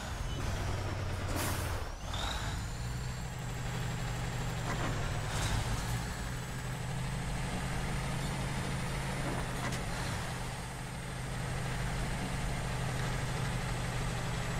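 A heavy truck engine in the off-road driving game Spintires, on a China Canyon map, droning steadily at a low rumble with hissing air-brake bursts and a rising whine over a loud, continuous bed.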